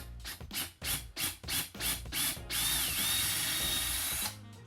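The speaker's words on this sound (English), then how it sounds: "I'm going to drill those holes for the buttons" A drill grinds through wood in several short bursts, then runs in one longer steady whirr before stopping.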